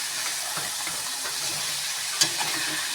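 Pork frying in a pan before being cooked into adobo gives a steady, loud sizzle with occasional stirring scrapes and one sharp clink.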